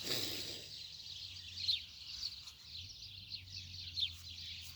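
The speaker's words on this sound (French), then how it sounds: "J'écoute les oiseaux." Birds chirping and calling outdoors in a continuous, moderately distant chorus of bright tweets, with a low steady hum underneath and no talking.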